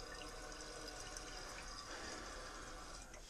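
Water rushes and hisses steadily into a toilet tank after a bidet seat installation, a faint, continuous filling sound with no talking.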